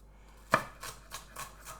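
A knife chops through an onion on a cutting board in a few distinct strikes, the first the sharpest, each a short crisp cut heard close and alone in a quiet kitchen.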